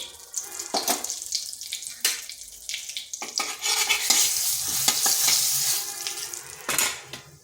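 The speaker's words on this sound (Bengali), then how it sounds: "এটা বেশ কিছুক্ষণ এইভাবে নেড়ে নিচ্ছি" A spatula scrapes and stirs through turmeric powder, cinnamon, cardamom, dried chili and bay leaf frying in oil in a pan, with a steady close sizzle broken by repeated metallic scraping strokes.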